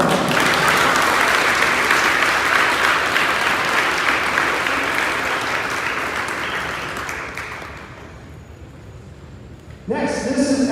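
A school crowd at an 8th grade awards ceremony claps steadily and loudly for student award winners, the applause thinning out after about seven seconds and fading before a voice begins speaking at the end.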